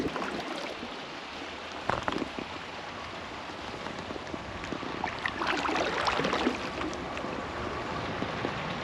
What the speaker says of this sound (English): I hear rushing water.